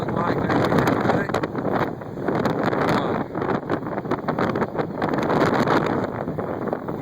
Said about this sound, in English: probably 40-mile-an-hour winds right now. Every once in a while gusting to maybe 50